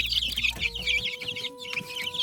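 Chickens cluck in a poultry yard where a selected rooster is being inspected, with dense, busy clucking and chirping close by and a low hum underneath throughout.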